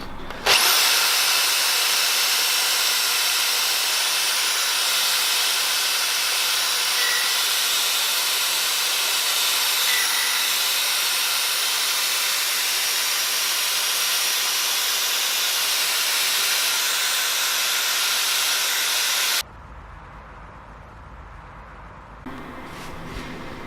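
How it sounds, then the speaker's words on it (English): Power wire wheel grinding rust off the body of a badly corroded Mazda MX-5 Miata, a loud continuous abrasive hiss and whir for about twenty seconds before stopping, followed by quieter scraping. "we're gonna hit this with the wire wheel and see how much rust comes off this"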